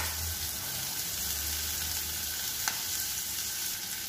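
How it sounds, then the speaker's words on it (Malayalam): Turmeric powder hitting a frying pan of boti fry, a steady hiss and sizzle of hot oil with a faint stir and one small clink, close and fairly quiet, with no talking. "ഇനി നമുക്കിതിലേക്ക് അല്പം മഞ്ഞപ്പൊടി ഇട്ട് കൊടുക്കാം."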